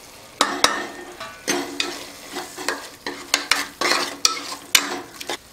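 Tomatoes sauté with chili powder, garam masala and turmeric for tomato rice, a soft sizzle broken by a rhythmic series of sharp spoon scrapes and knocks against the pan.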